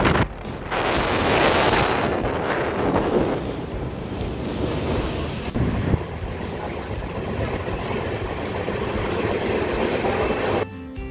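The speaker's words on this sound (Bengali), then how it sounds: "তো এখন কিন্তু আমাদের ট্রেন কিন্তু মাধবপুর ছেড়ে এগিয়ে যাচ্ছে" Moving passenger train on the Kolkata to Amritsar route, heard from inside as a loud, continuous rumble and rattle with wind roar and rhythmic clatter throughout.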